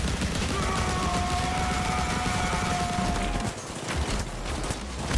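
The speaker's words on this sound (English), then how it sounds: "He's kind of going Rambo style with the belt-fed weapon like an M60" Belt-fed M60-style machine gun fire in the heist shooter PAYDAY 2: dense, continuous bursts of rapid shots fill the first few seconds, then thin out into scattered firing.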